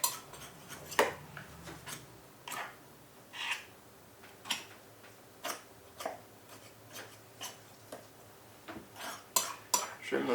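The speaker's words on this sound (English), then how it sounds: "Trim the pastry." Pastry being trimmed around the rim of a pie dish with handles on a kitchen bench, giving a string of light, separate clicks and scrapes against the dish every second or so, close and fairly quiet, with no speech.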